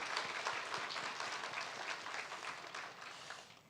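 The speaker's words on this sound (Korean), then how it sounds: "우리 다시 한번 박수로 격려하겠습니다." Church congregation applauding during a year-end Sunday service, steady sustained clapping from many hands that slowly fades toward the end.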